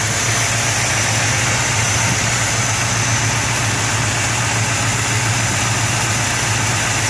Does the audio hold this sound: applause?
no